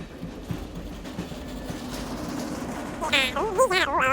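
A train rolls along rails with a low, steady rumble and faint rhythmic clatter, joined near the end by a brief burst of higher tonal squealing or voices over the running noise.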